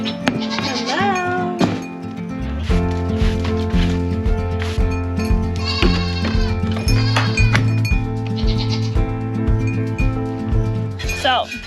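A farm goat in heat bleats with a few wavering, rising cries near the start, followed by a person talking over steady background sounds.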